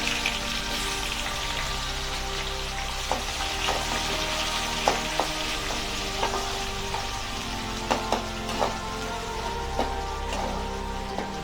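Onions and curry leaves frying in a pan for a Tamil ridge gourd kulambu, with a steady close sizzle and scattered sharp pops and spatula clicks throughout, no voices.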